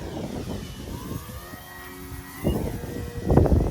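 An RC 3D foam airplane flies in a crosswind, its thin motor whine drifting in pitch at a distance, with gusty low rumbles of wind rising and falling around it.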